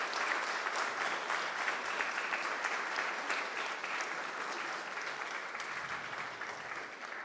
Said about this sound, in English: Should we have a round of applause for Scott, please?